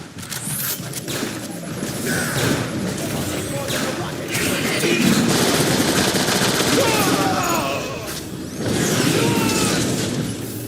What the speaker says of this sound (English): Rocket fire!